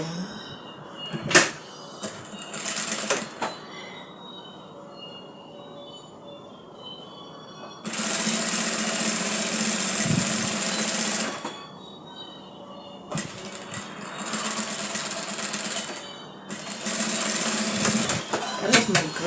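A sewing machine runs in several bursts of rapid, buzzing stitching, each lasting a few seconds, separated by quiet pauses and brief handling clicks, with no talking.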